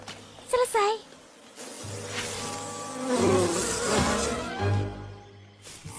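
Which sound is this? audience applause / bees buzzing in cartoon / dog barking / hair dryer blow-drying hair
bees buzzing in cartoon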